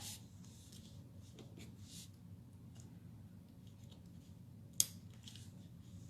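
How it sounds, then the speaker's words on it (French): Quiet snipping and rubbing of scissors handling small pieces of gold ribbon while making a Christmas card, with one sharp click near the end against a faint room background. "Et je me sers de mes ciseaux pour les coller."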